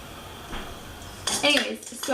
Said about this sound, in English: So you guys might hear the baby in the background eating.